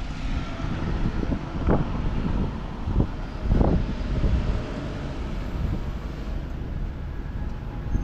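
Wind rushes over the microphone while cycling through Tokyo on a cloudy, windy day, a continuous low rumble with several louder gusts and buffets in the first half.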